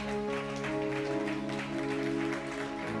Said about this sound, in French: Acclamez très fort et nous allons commencer.